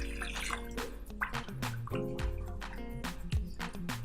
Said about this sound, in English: You add more stock, ordinary stock.